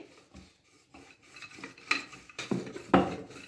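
Radish paratha dough being rolled out gently with a rolling pin, soft rubbing and scraping strokes against the board that come in irregular passes, growing a little louder toward the end.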